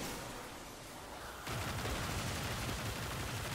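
Gunfire in a shooter video game, dense rapid automatic bursts that become louder and heavier partway through and continue as a steady noisy barrage, with no talking.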